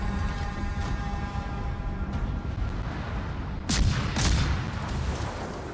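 Naval gunfire and explosions in the World of Warships game, a steady dense rumble of battle with a couple of sharp, louder blasts near the end.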